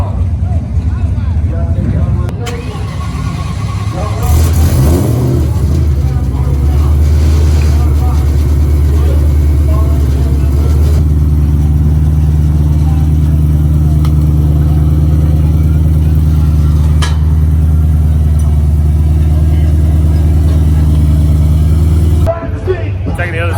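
A car engine runs loudly and steadily close by at a race track, with a low throbbing drone that swells in revs and holds for most of the clip.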